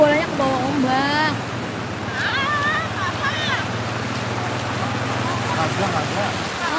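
Ocean surf at Anyer beach washes in as a steady broad roar with wind, while people talk over it at moments.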